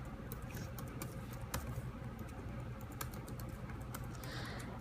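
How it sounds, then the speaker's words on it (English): Fingers typing an email address on a computer keyboard at a login page, producing a steady run of quick, light key clicks close up over a faint background hum. "I will type in my email address that I signed up with"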